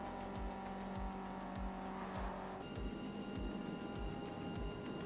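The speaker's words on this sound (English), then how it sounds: "attempting to drive a touring car" Hyundai Elantra TCR touring car in Forza Motorsport racing, its engine droning steadily with rhythmic gear-shift dips, and at about the midpoint the engine note changes, as in a downshift or a new car section.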